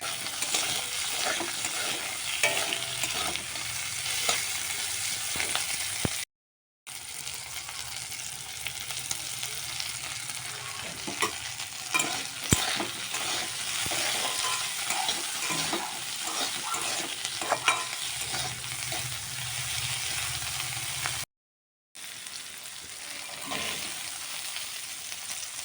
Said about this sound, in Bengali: আর ক্যাপসিকামটা দিয়ে দিচ্ছি। সামান্য পরিমাণ লবণ দিয়ে দিচ্ছি, বেশ ভালোভাবে ভাজতে হবে।